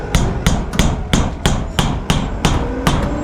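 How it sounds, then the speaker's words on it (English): Two hammers strike against each other to pull nails from an old farm storage shed, giving about ten loud, sharp metallic knocks in a fairly even rhythm, close up. "I think I'm gonna try using 2 hammers to pull them out"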